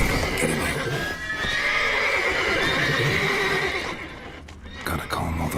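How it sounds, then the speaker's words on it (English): Horses in the video game The Witcher 3 whinny loudly and repeatedly, shrill neighs over a busy background with hooves clopping nearby, and a brief voice is heard. "Gotta calm all the horses before they wake the guards."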